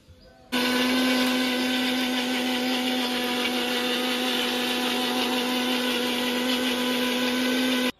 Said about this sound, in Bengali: মশলাগুলো এখন পেস্ট করে নিচ্ছি।